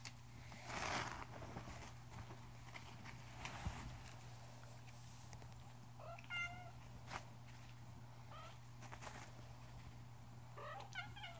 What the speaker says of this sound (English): We're playing with your kittens today.